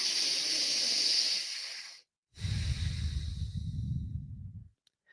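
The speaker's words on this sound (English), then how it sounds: "Inhale deeply through the nose." Deep breathing through the nose during breathwork training: a long hissing inhale, a brief pause, then a long, rougher exhale, close to the microphone with no talking.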